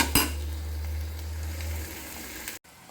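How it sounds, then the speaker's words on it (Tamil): Onions and tomatoes sautéing in a pan for cauliflower gravy, a steady close sizzle with a low hum, a sharp clink near the start and a brief drop out near the end. "இந்த வெங்காயம் தக்காளியெல்லாம் வதங்கிட்டு இருக்குல்ல"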